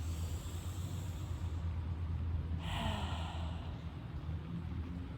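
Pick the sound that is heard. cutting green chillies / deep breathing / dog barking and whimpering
deep breathing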